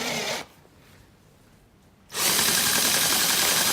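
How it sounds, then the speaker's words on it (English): A loud power drill fitted with a spade bit, driving a car jack, whirs briefly, cuts out into near silence for over a second, then kicks back in and runs steadily to the end. "all I have to do is hook my drill up to this spade bit"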